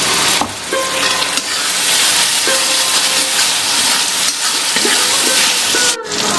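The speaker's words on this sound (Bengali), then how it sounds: "এই সময় অল্প পরিমাণে জল দিয়ে কষাতে হবে ভালো করে মশলাটা।" Masala frying in oil with a little added water for a chicken curry with potatoes gives a loud, steady hiss and sizzle throughout, briefly dipping near the end, with no talking.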